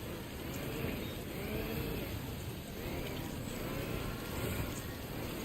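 Steady rain in Death Stranding 2 pours over a steep, muddy hillside, a dense continuous hiss with a low rumble beneath it and no talk.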